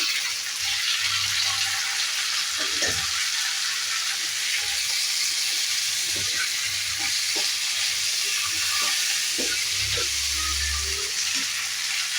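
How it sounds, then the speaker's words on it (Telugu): Chopped tomatoes and onions fry in an oily pan for a dry fish curry, a loud continuous close-up sizzle with intermittent low stirring scrapes and thumps. "టమోటా మెత్తపడేదాకా ఫ్రై చేసుకున్నాము"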